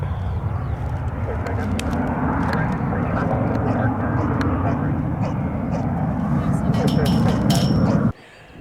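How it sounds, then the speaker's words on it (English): Airliner engines roaring continuously during a takeoff at London Stansted Airport, a loud, broad sustained rumble that cuts off abruptly near the end, with people speaking over it. "wait, that was a short takeoff"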